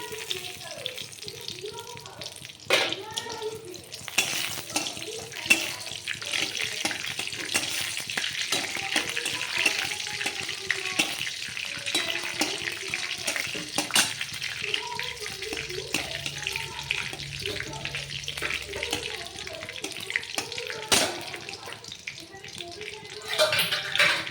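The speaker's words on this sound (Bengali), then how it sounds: "তেল দিলাম, দিয়ে লঙ্কা আর কালো জিরে ফোড়ন দিলাম।" Dried chili and nigella seeds crackle in hot oil as a tempering, a steady close sizzle with sharp pops, heard beneath a woman's speech throughout.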